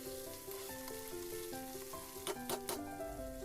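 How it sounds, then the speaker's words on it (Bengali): Shrimp, cauliflower and chopped tomato sizzle steadily in a pan while being stirred, with a continuous frying hiss and a few louder scraping clatters near the end, heard alone with no talk. "টমেটোটা দিয়েও খুব ভালো করে নাড়াচাড়া করতে হবে, যাতে টমেটোগুলো নরম হয়ে যায়।"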